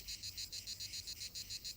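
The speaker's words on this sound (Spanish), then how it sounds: "las chicharras, como los grillos, frotan sus alas entre sí" Cicadas sing in a steady, fast pulsing buzz outdoors in nature, a dense rhythmic drone repeating several times a second, moderately faint and continuous with no voices.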